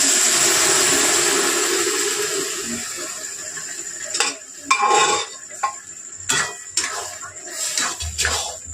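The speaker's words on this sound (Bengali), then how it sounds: "ঘেটে দেবেন বা ডাল গুঁতুনি থাকলে ঘেটে দেবেন" Boiled dal for a dhaba-style egg tarka is mixed in a pan. A soft sizzling hiss gives way to a series of irregular scraping and clinking strokes of a spoon against the pan.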